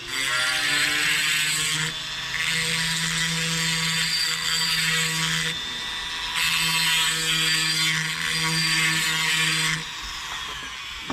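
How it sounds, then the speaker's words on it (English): A diamond burr in a rotary tool grinds steadily against the port edges of a two-stroke cylinder, a high whining buzz broken into several passes with short pauses between them, close and loud with no talking. "I'm going to use a diamond burr tool"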